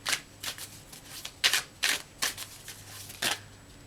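Tarot cards from an Afro Goddess deck are shuffled in a series of about eight crisp riffling bursts at a steady rhythm, close and fairly soft with no talking.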